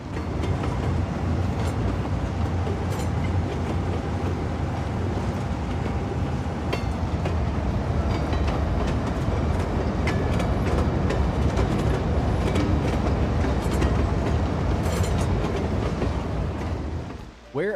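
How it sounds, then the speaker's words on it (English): A modern train in the city-building game Cities: Skylines 2 rumbles steadily and loudly throughout, a continuous rail roar with faint clacking and scattered game clicks, ending abruptly. "Oh wow, train's waiting there. Oh nice, a modern sort of train."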